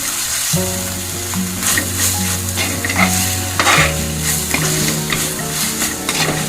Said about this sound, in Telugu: ఇంకా కొంచెం వేగాలి